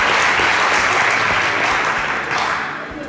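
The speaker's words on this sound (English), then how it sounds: "A round of applause." Loud applause from a studio audience, steady dense clapping that fills the whole moment and begins to fade toward the end.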